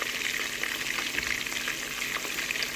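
Chicken pieces frying in hot oil for sweet and sour chicken, a steady dense crackling sizzle with faint stirring, close and continuous with no talk.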